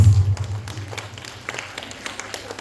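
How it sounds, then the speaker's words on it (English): An audience applauds Bharatanatyam students taking the stage at a South Indian talent fest, a dense patter of clapping that starts strong and thins into scattered claps, with no talking over it. "Thank you with a big round of applause"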